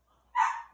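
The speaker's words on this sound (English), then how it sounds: "Sorry, my dog is going crazy because dog's in heat again." A dog in heat gives a single short, sharp bark in a quiet room, fairly faint and followed by a small soft sound.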